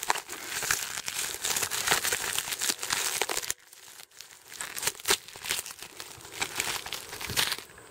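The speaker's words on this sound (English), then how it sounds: "we've got to take this wrapping off that is on the handle, and it comes off without having to cut it" Plastic wrapping crinkles and tears as it is pulled off the handle of a Billy Goat F602X walk-behind gas blower, with a steady close crackling that pauses briefly, then resumes in bursts.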